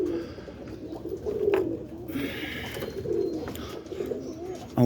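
Roller pigeons in a loft give soft, low cooing calls, several murmuring coos close by with light rustling between them.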